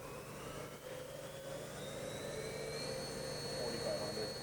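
Spindle of a Bridgeport-Hardinge vertical machining center with a Fanuc CNC control and 40 taper BT tooling, running up to 10,000 RPM: a steady mechanical whine with rising tones over a constant hum, near and moderately loud.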